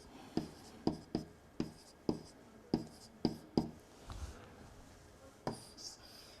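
A pen writes on blue paper during a maths lesson, making a steady series of crisp close taps and short scratchy strokes in a regular rhythm, with a brief soft rub in between.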